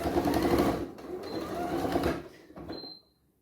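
A sewing machine runs in a steady mechanical whir as it stitches a hand sanitiser pouch, with a short back-and-forth reverse pass, then stops and leaves a few faint clicks.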